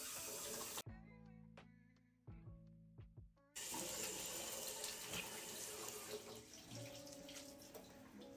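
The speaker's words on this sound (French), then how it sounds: "Quand c'est fait, je viens rincer mon visage." Tap water runs steadily into a bathroom sink as a face is rinsed, briefly cut off then flowing again with splashing and dripping, close and continuous.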